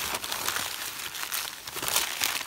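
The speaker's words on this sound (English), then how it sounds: "So taking a piece of newspaper, twisting it, and building it up" Close, continuous crinkling and crackling as a sheet of newspaper is twisted and crumpled by hand to build up a sculpture base, with no talking.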